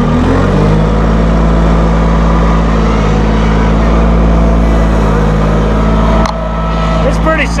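A Massey Ferguson 1825E hydrostatic compact tractor with a 24 hp engine runs at PTO speed, giving a loud, steady, close-up diesel drone with a strong low hum that dips briefly near the end, while someone talks over it.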